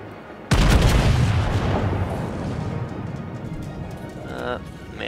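Heavy naval gunfire from the battleship Warspite firing on the cruiser Mogami in World of Warships, one loud booming salvo bursting in near the start and rolling on in a long rumbling decay.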